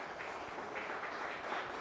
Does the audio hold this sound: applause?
yes